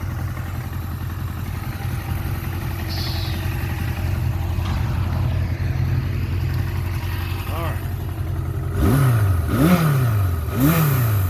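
A 1978 Suzuki GS750 E motorcycle engine idles steadily and close by while warming up, then revs up and drops back in three rising-and-falling swells near the end, with someone speaking briefly over it.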